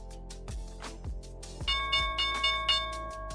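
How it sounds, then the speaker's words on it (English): Stock market opening bell rings in a rapid series of loud, sustained metallic tones, each strike sharply attacked and overlapping into a continuous ringing that builds and swells over a few seconds, with no talk. "Here's the opening bell."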